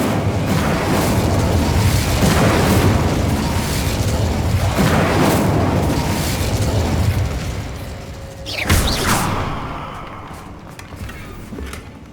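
A fire spell cast in Hogwarts Legacy: a sustained roaring whoosh of flames with a burst, then a sharp crackling flare near the end that fades away, loud and close with no talk.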